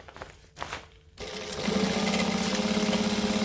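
A sewing machine back stitches a bag seam, starting with a few short stutters before settling into a steady, fast mechanical hum close up.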